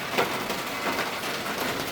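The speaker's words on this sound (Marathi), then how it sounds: "नुसता पाऊस पडतोय" Steady monsoon rain falls on a still day with no wind, a dense, even hiss of drops on surfaces, close and continuous, with no voices.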